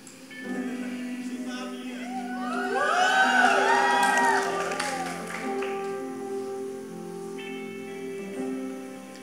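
A church congregation breaks into cheering and applause, a swell of whoops and clapping rising to a peak then easing off, heard alongside sustained music.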